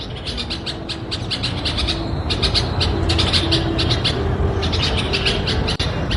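Close bird chirps repeat near a window over a steady broadband hiss, short calls overlapping in a continuous busy chatter.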